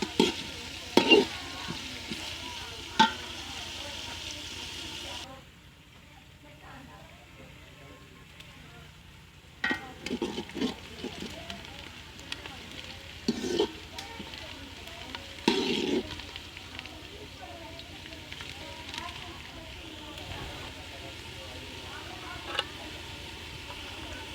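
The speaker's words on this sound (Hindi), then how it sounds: "प्याज हमने डाल दिया है घी में। प्याज का कलर हमने चेंज करना है।" Onions fry in ghee in a pot, a continuous low sizzle punctuated by irregular stirring scrapes and clanks, with a quieter stretch in the middle before the stirring resumes, and no voices.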